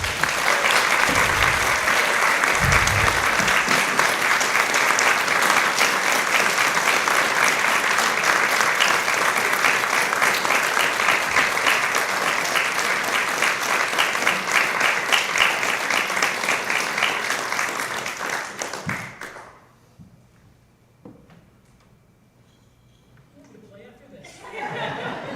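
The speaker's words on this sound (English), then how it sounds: "Folks, can we give a huge round of applause for Linda?" A concert audience at a handbell choir performance gives a long, loud round of applause with some chatter and chuckles mixed in, stopping abruptly near the end before a voice resumes speaking.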